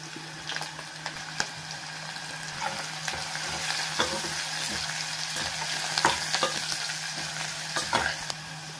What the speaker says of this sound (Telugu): ఆయిల్ వేడెక్కింది అందులో నిలువుగా తరిగిన ఉల్లిపాయలు వేసుకోవాలి